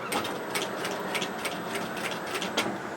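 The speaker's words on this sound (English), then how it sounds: "I'm just going to stitch around the edge of it" A sewing machine stitches around the edge of a loyalty card wallet with Velcro, making a fast, even run of mechanical clicks close up that continues without a break.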